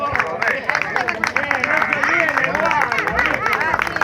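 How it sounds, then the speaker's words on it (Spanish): Crowd at a gathering of railway associations and model railway enthusiasts breaks into sustained applause for the guard, dense steady clapping with cheers and babble of voices throughout. "un aplauso para el guarda"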